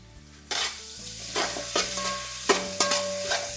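Fresh coriander and mint sizzle in a pot for a paneer mushroom biryani, with repeated scraping stirs and clanks of a spoon over a steady frying hiss, close and without talk.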